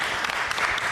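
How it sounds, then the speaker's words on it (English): An audience at a live lager panel at Goldfinger Brewing claps in a short, dense burst, nearby and moderately loud. "Clap it up for loving lager."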